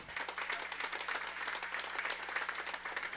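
A crowd claps for the community development council at a road-paving inauguration in Chemiche, Pueblo Viejo, a dense, even patter of many hands that holds steady throughout, moderately loud and without voices.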